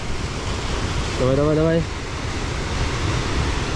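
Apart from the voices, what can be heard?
water rushing and bubbling in a river near the Shaki waterfall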